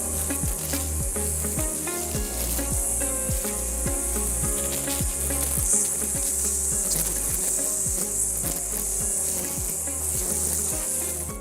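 Cobra GT35040VX grass trimmer running in a garden, a continuous close whine and buzz with a regular ticking pulse throughout the whole stretch, with no voices.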